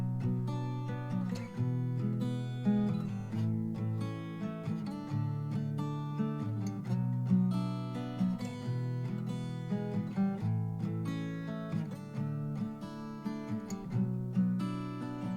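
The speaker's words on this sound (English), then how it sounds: "what I did is I actually recorded the acoustic part twice, and then I panned one to hard right and one to hard left" Strummed acoustic guitar, recorded twice and panned hard left and right, plays a steady chordal part with bright sustained notes and a continuous rhythmic strum, full and close, with no voices over it.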